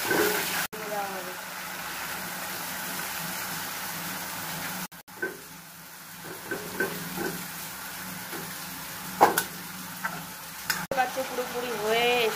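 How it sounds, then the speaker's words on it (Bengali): Chicken stir-fried with water in a pan for a spicy red kosha curry sizzles steadily, with a constant frying hiss broken by scrapes and stirring clinks, while someone talks over it. "একটু জল দিয়ে এবার কষানো, জল দিয়ে এবার কষানো হবে।"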